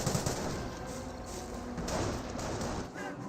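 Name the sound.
MG42 machine gun fire in Company of Heroes video game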